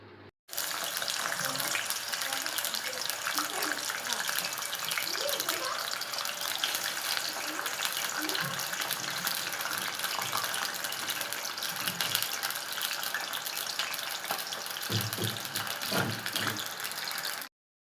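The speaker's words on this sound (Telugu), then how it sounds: "డీప్ ఫ్రైకి ఆయిల్ పోసుకొని మనం అది వేడెక్కాక ఫస్ట్ మనము ఆలుగడ్డ ఫ్రై చేసుకుందాం." Potato pieces deep frying in hot oil for a Bengali-style okra and potato fry give off a steady, even sizzle that barely changes over the whole stretch.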